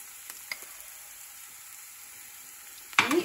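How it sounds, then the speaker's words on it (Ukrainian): Beef and onions frying in a pan for an English beef hotpot, a soft steady sizzle running quietly throughout, closed by a brief louder clatter near the end. "Так, цибульку трошки пробасірували."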